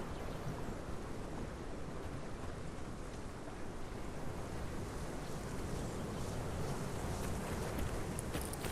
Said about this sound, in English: carried away by the wind and the crashing waves